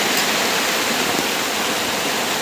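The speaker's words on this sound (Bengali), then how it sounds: "প্রচুর বৃষ্টি হচ্ছে।" Heavy rain pours down outside, a loud, dense, unbroken hiss of falling water filling the whole stretch.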